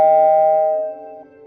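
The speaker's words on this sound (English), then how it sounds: "I was awakened by the sudden ring of the doorbell" A single doorbell chime rings out close and clear, its bright tone sustaining and then decaying over about a second.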